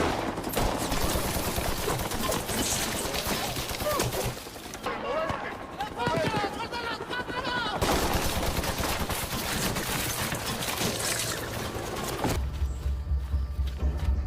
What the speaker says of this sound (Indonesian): polisi mengetahui keberadaan Pablo dan terjadilah peperangan yang membuat Pablo lari ke tengah hutan